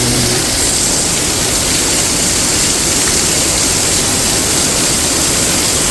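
Heavy rain pouring down near a roadside tea stall, a loud, steady rushing roar close by that masks everything else, with no voices.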